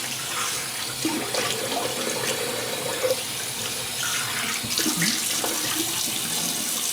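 Cold water runs steadily from a bathroom tap for a rinse after shaving, a close, continuous hiss and splash with small shifts as hands move through the stream.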